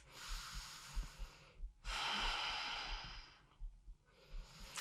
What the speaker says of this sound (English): And now just take a few breaths.